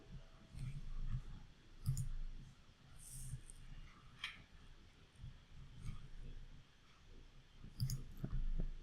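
A computer mouse gives quiet, sharp clicks now and then to download a file, close to the microphone but very faint over a low, soft room murmur.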